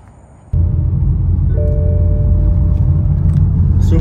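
A Toyota Supra drives along after being repaired, with a loud, close cabin rumble of engine and road noise that swells in suddenly after a quiet moment and holds steady, with a faint tonal whine rising over it.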